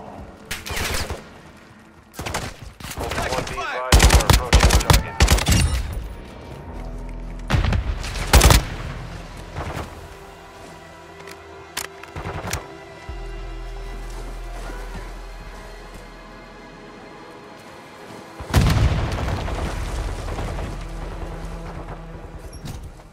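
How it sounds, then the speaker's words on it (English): Gunfire and explosions in the video game Call of Duty DMZ: loud bursts of automatic fire and sharp booms come in irregular clusters, with quieter stretches of lingering rumble between them. "You are taking effective fire."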